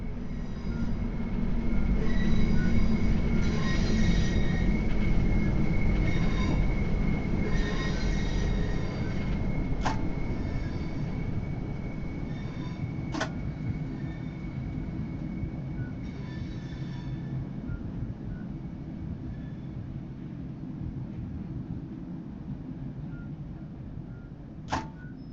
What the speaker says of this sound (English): Begin applying a small amount of braking force to bring the train to a gentle stop.